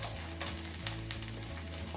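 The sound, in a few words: garlic sizzling in olive oil in a pan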